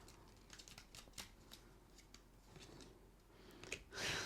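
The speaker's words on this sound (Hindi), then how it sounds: "आपके सामने शफल कर रही हूँ, आपके सामने कार्ड्स निकाल रही हूँ।" Tarot cards being shuffled by hand, with soft, irregular riffling and flicking in several short bursts, fairly faint, ending in a louder rustle.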